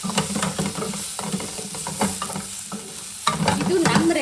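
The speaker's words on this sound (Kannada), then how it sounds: "ಟೊಮೆಟೊ ಹಾಕ್ಕೊಂಡು ಎಲ್ಲ ಕೂಡಿ ಫ್ರೈ ಮಾಡ್ಕೊಳ್ತಾ ಇದ್ದೀನಿ." Tomatoes frying with masala in a pan for North Karnataka-style mutton sukka: a steady sizzle with scraping stirs and soft clinks, close and moderately loud.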